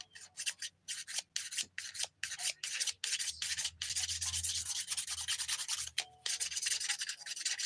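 A fingernail is filed with the 180 grit side of a nail file during a dip powder manicure, giving quick, close, dry rasping strokes in a rapid rhythm that blur into a continuous scrape.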